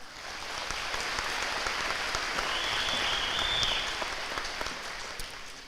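Applause for graduating classmates at a high school graduation, a broad steady wash of many hands clapping that swells slightly in the middle and eases off toward the end.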